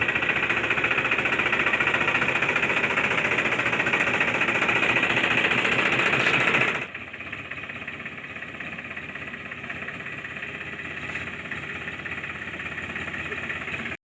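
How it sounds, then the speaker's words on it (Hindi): Mahindra tractor engine running, a loud steady mechanical drone that abruptly drops to a quieter, lower idle halfway through and continues evenly to the end. "तो देखो बच्चों, महिंद्रा ट्रैक्टर तो आ चुका है।"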